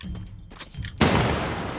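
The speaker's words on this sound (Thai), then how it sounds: "เอาระเบิดปาไปเลย" Video game combat: a sudden heavy blast, as from a thrown grenade, cuts in partway through and is followed by dense crackling noise and gunfire. Before the blast come muffled thumps and movement.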